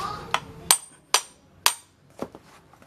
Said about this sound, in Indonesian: Kalau agak susah bantu pakai palu ya.